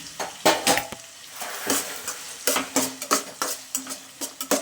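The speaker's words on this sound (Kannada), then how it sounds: "ಹಸಿಮೆಣಸಿನ್ಕಾಯಿ ಸೇರಿಸ್ಕೊಳ್ತಾ ಇದ್ದೀನಿ" Green chillies go into a frying pan for a hotel-style potato sagu, with repeated metal stirring scrapes and clinks over a soft sizzle, close and steady, no talking.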